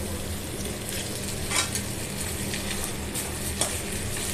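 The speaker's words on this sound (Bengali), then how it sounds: "আলুগুলো তেলের মধ্যে দিয়ে দেবো" Steady sizzling of potatoes frying in hot oil, with occasional scraping and stirring sounds from a pan.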